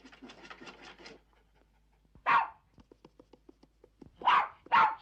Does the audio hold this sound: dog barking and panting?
yes